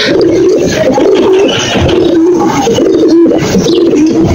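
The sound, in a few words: pigeons cooing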